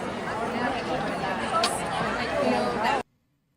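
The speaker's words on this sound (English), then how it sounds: "that's the crowd" Dense crowd chatter from visitors on the first morning of a Canadian quilt show, a steady babble of many indistinct voices that cuts off abruptly after three seconds.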